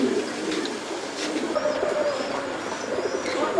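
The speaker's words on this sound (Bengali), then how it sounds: "এটা হচ্ছে চুরিবাজ কবুতর।" Turibaz pigeons, a foreign fancy breed kept at a pigeon show, coo steadily in a low repeating murmur, with faint chirps and background bustle around them.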